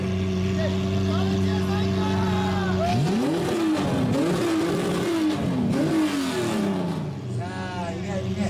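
A classic Nissan Skyline Kenmeri engine idles loudly, then is blipped through several sharp revs rising and falling in quick succession before settling back, heard close at a Japanese car show.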